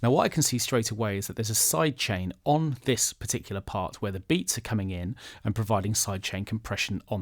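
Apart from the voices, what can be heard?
None of the usual background noises is heard.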